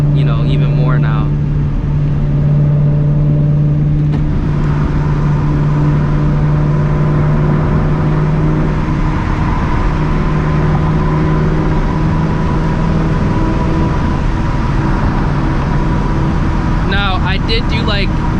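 Supercharged 2V Ford Mustang GT accelerating hard, with engine drone and harmonic whine climbing steadily over a long pull, loud and close, ending in a brief shift; faint voice traces near the start and end.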